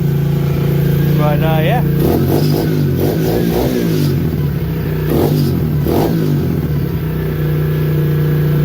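A Tao Tao 110 motorbike fitted with a 125cc four-speed engine and a clutch swap idles steadily nearby, then revs in several rising bursts, with someone speaking briefly over it.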